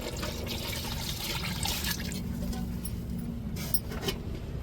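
Water pours into a cooking pot of coconut curry after rinsing a stone grinding slab, a steady splashing, trickling stream heard close and moderately quiet throughout with no talk.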